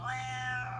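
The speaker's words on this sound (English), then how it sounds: "Then I have this cat who sounds like she smokes for 30 years." A cat gives one raspy, gravelly meow, drawn out and steady over a low background hum.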